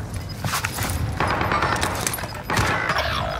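Gunfire from the Call of Duty Warzone video game on Rebirth Island comes as bursts of rapid shots and sharp cracks, layered over dense battle noise and rising in intensity toward the end.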